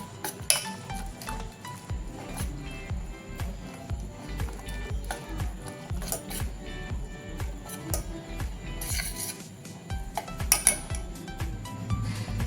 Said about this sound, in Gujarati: હવે બધું સરસ રીતે મિક્સ કરી લેવાનું છે